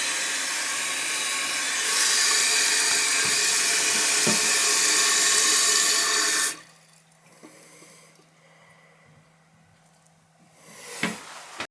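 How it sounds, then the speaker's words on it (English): A toilet flushes with a loud rushing surge of water for several seconds, then cuts off abruptly as the tank begins refilling with a quieter steady hiss and trickle, ending with a brief louder gush; the toilet keeps running from a leak. "See how it flushes."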